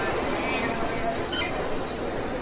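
A train pulls into a station in an audio drama effect. Its wheels squeal in a high steady tone over a dense rumbling rail noise, loud and close, with no voices.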